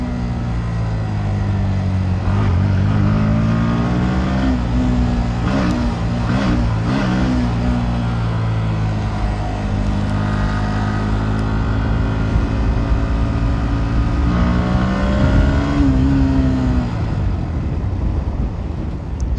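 A 125cc motorcycle being ridden in its break-in period, engine loud and close with rising and falling revs over continuous wind and road rumble, no talking.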